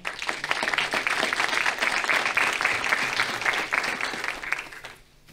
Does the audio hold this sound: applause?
yes